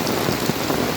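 Steady rain pouring down during an outdoor football game in a monsoon downpour, a dense continuous hiss of drops with no voices.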